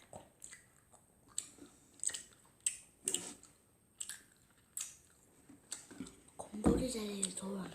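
Quiet, close-up chewing during a mukbang: a steady run of soft crunchy bites and wet mouth clicks at an even rhythm, with a brief murmured voice near the end.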